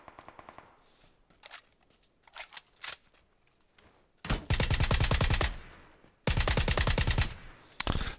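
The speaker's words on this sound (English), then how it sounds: "And we're almost out of bullets on a 416." HK416 rifle fire in the video game PUBG on a test range: a few scattered single shots, then two long, loud, rapid automatic bursts close up, ending with a final sharp crack.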